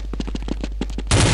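Rapid gunfire in a multiplayer video game, about a dozen sharp evenly spaced shots in a quick burst, followed by a sudden loud burst of broadband noise at the end.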